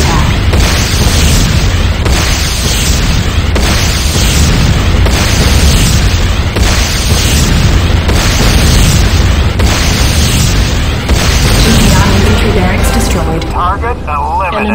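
A long, dense run of loud booms and bursts comes from structures being destroyed in the video game Renegade, set in the Command & Conquer universe. The blasts overlap continuously and fade into a voice near the end.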